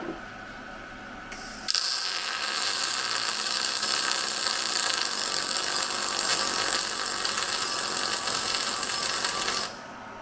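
A MIG welder runs with high wire speed and low voltage for about eight seconds, a close, harsh crackling hiss with a rough fluttering stutter that starts and stops abruptly, with no talking during the weld.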